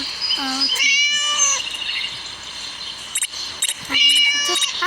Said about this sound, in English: Naughty cat again.